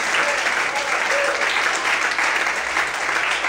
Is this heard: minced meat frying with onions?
no